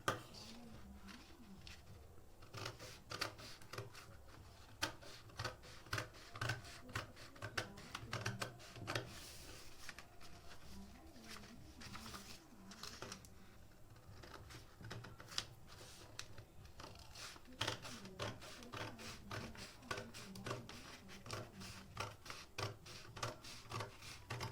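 Scissors cut fabric for a garment sleeve, a quiet sequence of crisp snips and rustles with a steady, close rhythm through the whole stretch.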